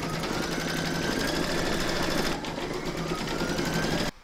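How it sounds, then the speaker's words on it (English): An embroidery machine stitches a llama appliqué with a steady, close, high-speed mechanical whirr that runs unbroken for about four seconds and then stops abruptly. "Pop your hoop back into your machine and stitch round number 2 to secure it."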